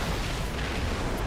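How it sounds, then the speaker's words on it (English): A flashbang explodes in a video game, a short dense burst of noise with a heavy low-end rumble that fills the whole moment. "Flashbang."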